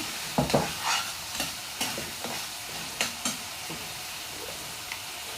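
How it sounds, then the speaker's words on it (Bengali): A spoon stirs khichuri frying in a pot, scraping in several irregular strokes over a steady soft sizzle, close and alone with no voices. "ঢাকনাটা খুলে নিব, একটু ভালোভাবে নাড়াচাড়া দিয়ে নিব।"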